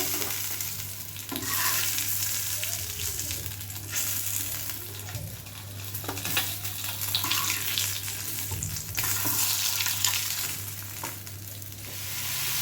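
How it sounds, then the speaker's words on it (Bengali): Fish and potatoes frying in hot oil in a pan, a steady close sizzle with occasional stirring and scraping throughout. "আমি ওই তেলের মধ্যেই আলুগুলো দিয়েছি, ভুলে গেছি তোমাদের দেখাতে। এটা হালকা একটু ফ্রাই করে নিতে হবে।"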